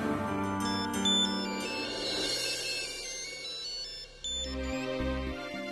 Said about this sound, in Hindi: मैं अजीत को फोन करके देखती हूँ।